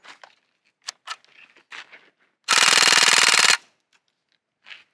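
A Crosman AK1 full-auto BB gun fires one sustained rapid burst of about a second, loud and close, after a few scattered handling clicks, with more small clicks afterward.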